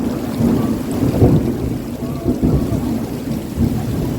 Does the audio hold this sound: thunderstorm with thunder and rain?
yes